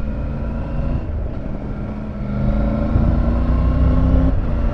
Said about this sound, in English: See, there I use the quick shifter because I want to hold on to the handlebars and just shift up.